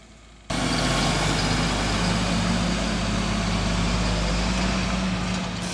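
A Valtra S 353 tractor driving to a field near Schwerin, its diesel engine kicking in abruptly after a short quiet moment and then holding a loud, steady, close rumble.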